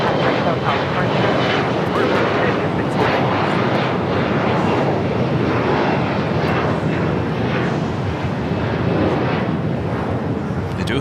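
An airliner takes off from runway 25 Right at Los Angeles International Airport, a loud, steady engine roar that stays constant throughout, with radio voices faintly over it.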